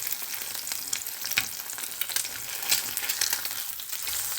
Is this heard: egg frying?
yes